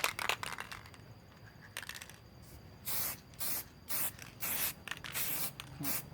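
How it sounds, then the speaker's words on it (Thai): White spray paint hisses onto welded steel in a workshop, several short even bursts in a steady rhythm after some quieter handling noise, close and fairly soft. "โรงงานจริงเป็นสีขาวจินจะพ่นสีสเปรย์สีขาว"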